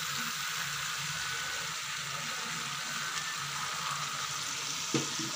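Water poured into a pan of frying potatoes for potato chutney brings a loud, steady hiss and crackle that continues throughout, with a faint stir or clink near the end.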